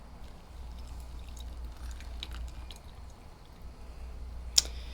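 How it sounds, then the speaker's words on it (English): Hot water is poured onto coffee grounds so they can off-gas while off-grid coffee is made. A faint, steady trickle runs throughout, with one sharp click near the end. "We're going to pour a little bit on here, let it off gas."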